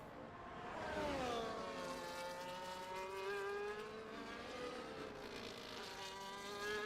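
A McLaren Formula 1 car's engine in the racing game F1 24 whines steadily at high revs, its pitch sweeping up and down through gear changes, heard continuously and fairly close with no talk.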